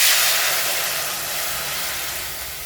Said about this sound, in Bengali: আমি সেদ্ধ ডালটা এবার ঢেলে দিচ্ছি।